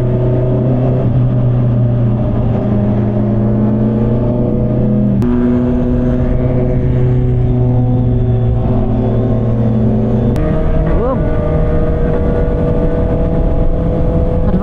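A sport bike motorcycle cruising on an expressway at night, a loud, steady engine drone with shifting pitch and brief gear-change breaks, heard close up without talk.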